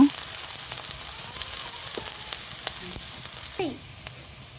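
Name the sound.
chopped onion frying in oil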